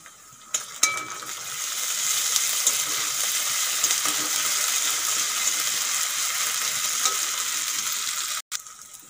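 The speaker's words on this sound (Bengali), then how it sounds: "পেঁয়াজগুলো একটুক্ষণ ভেজে নিয়েছি, এখন দিয়ে দেবো আদা রসুন বাটা।" Onions fry with ginger garlic paste in a pan for a Bengali-style chicken ghugni, a steady close sizzle with occasional clinks of a spoon against the pan, ending in a sharp cut.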